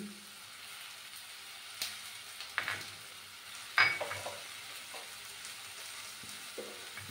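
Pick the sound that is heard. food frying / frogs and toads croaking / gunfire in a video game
food frying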